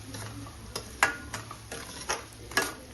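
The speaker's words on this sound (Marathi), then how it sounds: "आता हे सर्व छान असं मिक्स करून घ्यायचं" Spiced vada pav potato filling with garam masala and cumin powder stirred in a pan, a steady run of scraping spoon taps repeating about every half second, close and fairly loud, with no talk.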